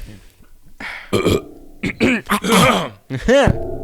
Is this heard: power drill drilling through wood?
no